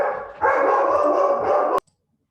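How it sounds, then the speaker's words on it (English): A pet dog barking indoors at home, a single sustained loud burst of barking or howling lasting over a second, then cutting off abruptly into silence. "my dog was going a little nuts again"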